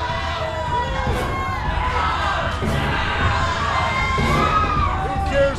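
A big crowd cheers and shouts throughout at a wrestling death match tournament, loud and steady, with an excited commentator talking over the roar.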